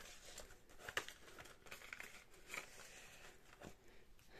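Paper crinkles and rustles as banknotes are tucked into a paper envelope, with a few soft crisp crackles and handling noises, close and quiet, alone without talk.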